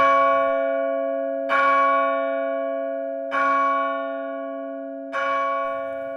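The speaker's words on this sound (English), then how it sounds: "The bell struck 12." A deep church bell tolls the hour of twelve, with four ringing strikes heard here, each a loud, clear stroke spaced about two seconds apart, and a long humming resonance decaying between them.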